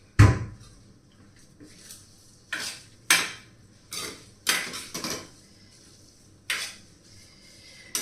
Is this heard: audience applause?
no